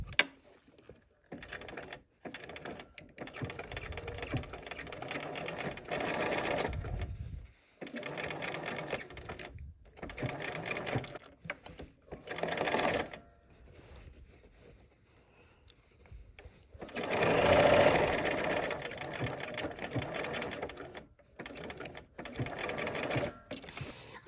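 Home sewing machine stitching a seam in several bursts, running steadily then stopping between passes, with brief pauses and a longer run near the end; someone talks between runs.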